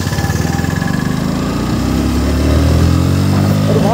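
Fully modified KTM RC390 motorcycle with a free-flowing exhaust, loud and close, with a throbbing rapid-pulse idle that rises into a heavier, deeper drone as the revs climb.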